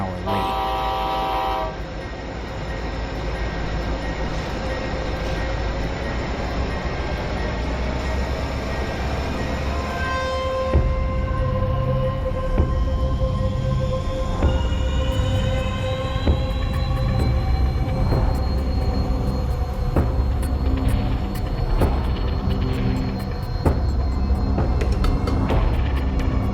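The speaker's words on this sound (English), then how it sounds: "the train departs at 11:34 p.m., running over a half an hour late" An Amtrak Sunset Limited passenger train departs with a steady low rumble and rising engine tones, with horn-like tonal blasts sounding over it, loud and continuous, with a few faint voices.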